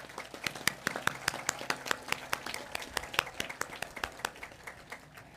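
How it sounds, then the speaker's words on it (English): Scattered, sharp hand claps at a high school graduation ceremony for the class of 2021, fairly close and steady in rhythm, like a modest group applauding the graduating students for about five seconds with no talk. "Please give all the students a round of applause"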